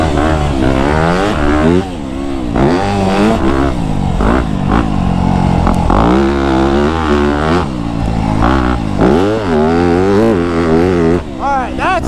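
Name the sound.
Yamaha YZ250F dirt bike riding on a sand track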